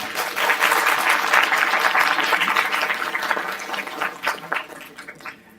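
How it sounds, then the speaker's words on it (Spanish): Applause from an audience at a talk on adolescence greets a guest speaker, a full round of clapping that gradually thins into scattered claps before fading out. "Un aplauso para él, por favor."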